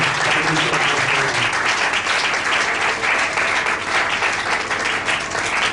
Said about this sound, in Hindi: ताली बजाकर हम परमेश्वर का धन्यवाद करें।